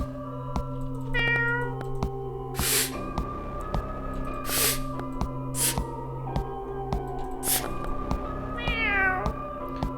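A video game cat meows in short, rising calls at two moments, set against steady in-game ambient tones and several sharp bursts of noise, with no talking.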